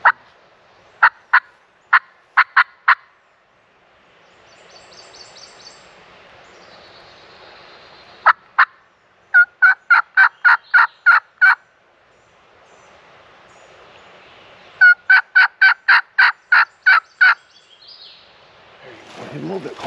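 Wild turkey gobblers gobble across a swamp in loud, rattling bursts, several clustered calls repeating at intervals with quieter woodland ambience between them.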